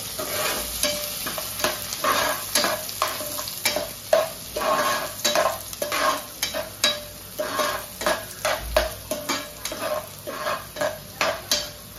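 Curry leaves and a bay leaf sizzle in hot oil with asafoetida, a steady hissing fry broken by repeated scraping and clinking of a spoon stirring the pan.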